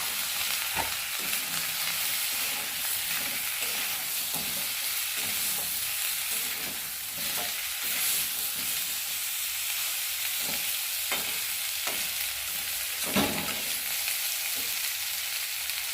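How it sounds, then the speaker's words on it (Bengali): Fried prawns being stirred in spice paste in a pan for a prawn malai curry, giving a steady close sizzle with scraping stir strokes and occasional clatters of a spatula against the pan, no voices. "নেওয়ার পরে ভেজে রাখা চিংড়ি মাছগুলোকে দিয়ে মশলাটাকে একটু কষিয়ে নেবে"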